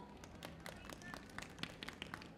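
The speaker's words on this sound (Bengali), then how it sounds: "Give a huge round of applause." An audience claps at a makeup demonstration during a beauty event. The claps are scattered, quick and fairly faint, and a voice talks quietly underneath.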